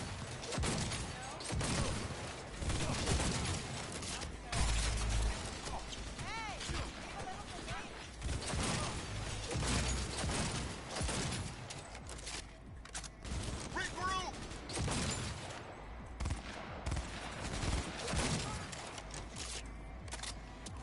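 Bursts of gunfire and mechanical clatter from the video game Cyberpunk 2077 crackle through a busy mix of in-game voices, effects and background sound, moderately loud throughout.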